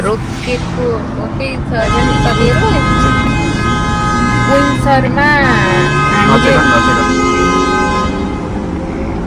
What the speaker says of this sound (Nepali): यस्तो हर्न बजेको देखिनै पर्दैन थियो है यहाँ चाहिँ यस्तो हर्न बजेर नेपालै गएको जस्तो हुँदो रहेछ